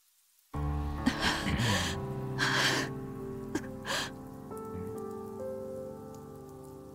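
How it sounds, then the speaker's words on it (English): Rain from the Fate/Stay Night [Unlimited Blade Works] game falls steadily over a forested mountain scene, a soft continuous patter under sustained musical tones, with a few louder gusting swells early on. "Falling rain."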